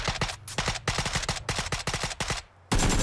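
Rapid bursts of gunfire from another player group in the Xbox game PUBG on the Miramar map, loud and close, dense rattling volleys with short gaps and a brief lull before firing resumes.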